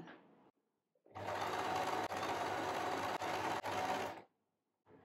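A sewing machine stitches a drawstring gift bag in one continuous run of about three seconds, a fast steady mechanical whirr that starts and stops abruptly, with brief quiet pauses and faint handling sounds on either side.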